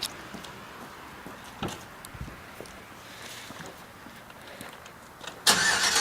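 A truck engine cranks and catches near the end, bursting into a loud, steady run after several seconds of quiet background with faint knocks and shuffling.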